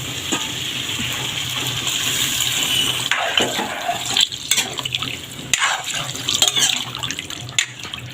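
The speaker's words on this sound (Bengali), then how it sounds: "এবার দিয়ে দেবো জল।" Water pours from a vessel into a pot of spicy meat curry, first as a steady rushing stream, then as splashing and bubbling with light knocks against the pot, close by.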